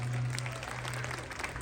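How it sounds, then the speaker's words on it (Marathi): An audience claps loudly for the winning women at a Mahavitaran Home Minister-style celebration at Chatushrungi temple, Pune. The applause is dense and continuous for the whole moment, with a low hum underneath. "एकदा जोरदार टाळ्या या सगळ्या जणीसाठी पाहिजे."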